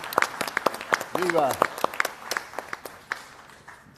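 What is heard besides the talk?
audience applause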